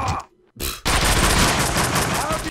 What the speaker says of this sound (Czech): kam přijdu, tam se střílí, to snad není možný